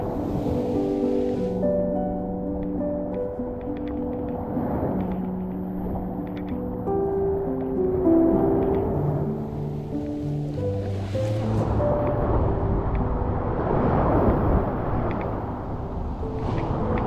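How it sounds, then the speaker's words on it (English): Ocean surf on Miami South Beach, a continuous washing hiss of waves breaking and rolling in, with melodic music tones playing over it throughout and no talk. "Beautiful sound of the beach."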